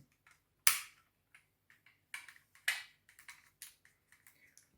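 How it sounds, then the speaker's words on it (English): Plastic parts of a Transformers Energon Optimus Prime toy being folded and snapped into place, giving a sharp nearby click followed by scattered lighter clicks and ticks in an otherwise quiet room. "First, remove the gun, splay out the arms and legs, fold up the feet and heel spurs and retract the fists into their cavities."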